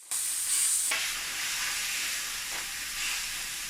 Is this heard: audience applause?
no